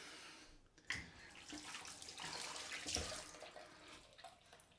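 Water runs from a tap into a sink, a soft irregular splashing stream with a few louder gushes, fairly close and with no talking.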